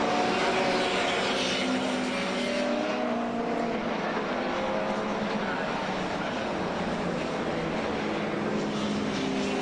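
Austin Mini race cars lapping at the Brands Hatch circuit during the Mini Festival, a continuous loud roar of several engines passing and blending together, with no talking over it.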